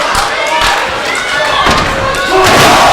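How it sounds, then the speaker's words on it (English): A flying thrust kick lands with a heavy thud during a 2006 independent pro wrestling show, one of several sharp impacts heard over a loud, roaring arena crowd that swells toward the end. "Flying thrust kick."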